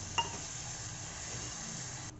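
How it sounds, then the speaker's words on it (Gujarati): Spinach sizzles in a hot pan as it is stirred with a utensil, a steady frying hiss with a single sharp clink of metal early on, close and continuous, with no voices. "પાલકને આપણે મિક્સ કરી દઈશું ધીમે ધીમે."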